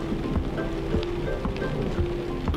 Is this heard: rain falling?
yes